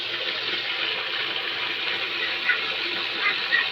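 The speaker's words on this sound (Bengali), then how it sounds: "দেখতে পাচ্ছেন মোটর চলছে" Water gushes steadily from a running motor pump into a pond where ducks are kept, a continuous close rushing splash with a faint low hum beneath and no talking.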